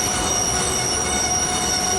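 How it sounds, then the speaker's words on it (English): Car brakes fitted with EBC pads screeching hard, a loud, steady high-pitched metallic squeal like a freight train coming to a stop, held unbroken for two seconds without any voices. "over your music you can hear your brakes screeching. It literally sounds like a freight train coming to a stop."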